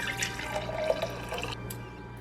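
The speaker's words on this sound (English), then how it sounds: "And then you can pour it into cups." Tea pours and trickles into a cup close by, with faint splashing and gurgling over a low steady hum, then tapering off.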